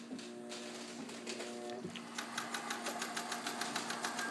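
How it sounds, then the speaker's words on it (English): A restored Singer 201K rotary sewing machine stitches medium weight fabric, starting with a low hum and a few slow knocks before settling into a quiet, rapid, even clatter heard close up. "One of the most remarkable things about a 201 is the incredibly quiet sound that it makes when it sews."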